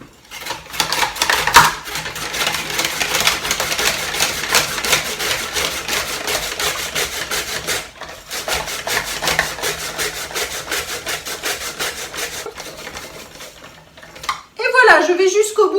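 Potatoes are pushed through a kitchen mandoline-style slicer to make julienne, giving a loud, rapid, rasping scrape-and-clatter close by for about fourteen seconds with one short pause, then a person talks.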